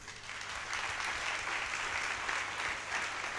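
A church congregation celebrating the golden jubilee of the St Pierre Anouma readers' group claps steadily in a dense, sustained round of applause that fills the room, with a low hum underneath and no voices.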